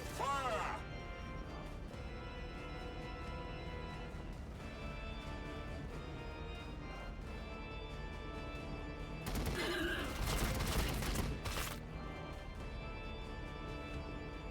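Gunfire in Warhammer 40k: Battlesector, a turn-based battle game, heard as a dense burst of shots and crashes partway through, set under continuous game music and a voice talking.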